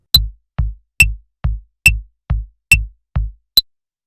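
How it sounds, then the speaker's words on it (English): Drum beat programmed in Soundtrap plays a steady eighth-note rhythm, nine clean hits that alternate between a bright, snappy accent and a softer, duller stroke, each with a short boomy decay. "It sounds like this with a drum on Soundtrap."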